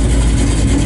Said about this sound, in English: Got nice sound and thumpy exhaust.